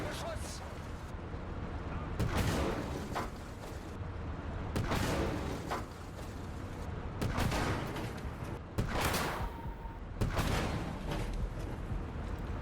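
A Soviet 45mm M-37 anti-tank gun from 1937 fires repeatedly in the game Gates of Hell: Ostfront, loud sharp booms about every two seconds over a steady rumbling background.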